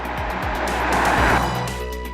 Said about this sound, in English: it gets ever more dramatic. The few chances that I've had to take it to say about 7000 RPM